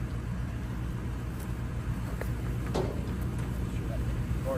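A 2021 Caterpillar 336GC excavator runs close by with a steady, loud low diesel drone that holds even throughout, broken by a few brief higher clicks and squeaks of the working machine.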